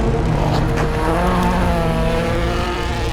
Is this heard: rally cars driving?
yes